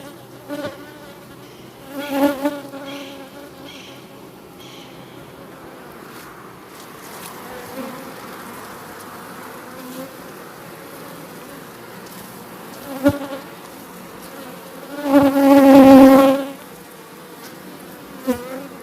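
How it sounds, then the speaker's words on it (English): Steady buzzing of many honey bees around an opened hive, swelling in a few louder bursts as bees fly close past, with no talking. "So I just shake the bees off."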